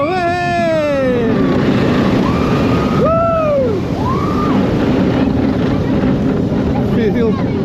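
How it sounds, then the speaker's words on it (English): Strong wind rushes loudly and continuously past the microphone on a roller coaster at Busch Gardens Tampa, going through a double helix and zero-G roll, with excited voices shouting over the steady roar. "You'll definitely feel the wind in your hair."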